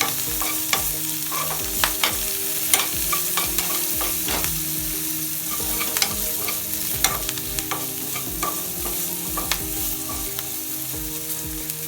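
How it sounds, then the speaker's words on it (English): Ginger and green chilies frying in hot oil while being stirred, a continuous bright sizzle punctuated by frequent spoon scrapes and taps against the pan, close and without speech. "You can see my ginger, green chilies, everything has been fried in the oil."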